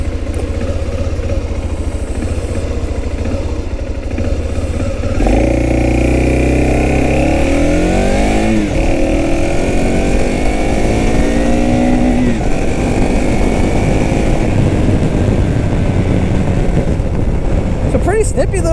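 A BMW F650GS single-cylinder enduro motorcycle pulls away from idle and accelerates from 0 to 60, its loud engine note climbing and shifting through gears, with steady wind and road noise throughout.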